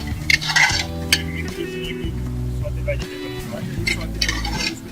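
Vegetables sautéing in a pan, with a utensil scraping and clinking against the metal in uneven bursts over a low sizzle and a droning hum, while a voice talks faintly underneath.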